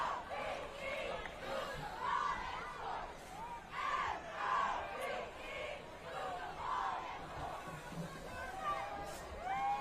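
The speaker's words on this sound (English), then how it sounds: "Excellent crowd here." A football game crowd roars and cheers continuously at the stands, a dense, fluctuating wall of voices with shouts rising and falling, while a commentator talks over it.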